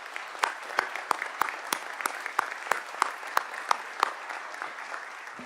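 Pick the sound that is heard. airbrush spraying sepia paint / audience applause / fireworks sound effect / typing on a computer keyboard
audience applause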